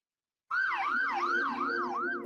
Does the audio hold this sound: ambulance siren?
yes